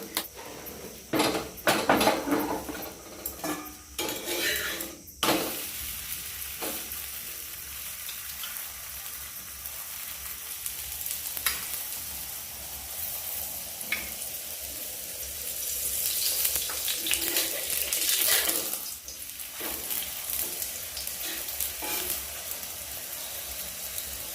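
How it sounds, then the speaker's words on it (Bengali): Paratha cooking on a flat tawa pan beside a pot of lentils, a soft continuous sizzle with occasional metallic clinks of a spatula and utensils, close and moderate in level, no speech. "আজকে চাটু করেই করে নিচ্ছি পরোটাগুলো।"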